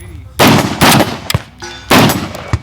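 Gunshots during a prone shooting challenge with an AK-type rifle: three loud, separate reports spaced about half a second to a second apart, each with a short echoing tail, plus a few sharp metallic clicks between them.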